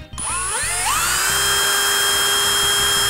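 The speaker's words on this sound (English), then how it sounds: "I'm using a small drill bit here." A high-pitched electric drill with a small bit spins up and whines steadily, loud and close, its pitch rising before settling into a sustained drone.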